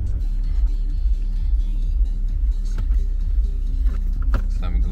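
Car carrying wedding passengers: a steady, loud low engine and road drone from inside the cabin throughout, with faint voices and a few light knocks on top.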